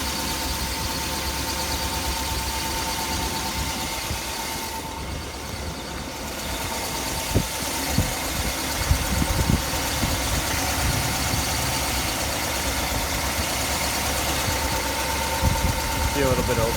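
A 1959 Ford Fairlane 500 Galaxie Skyliner retractable hardtop with its Ford Blue V8 idles steadily nearby, a continuous low, even rumble with a faint squeal and vibration running throughout.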